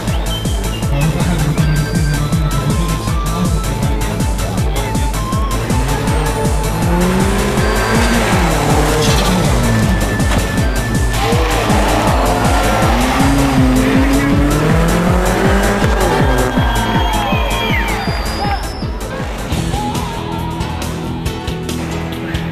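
A rally car in an Auto Solo run revs hard through repeated gear changes while its tires squeal and skid in long wavering screeches, loud and close throughout.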